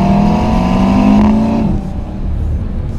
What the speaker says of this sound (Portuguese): E esse ronco maravilhoso,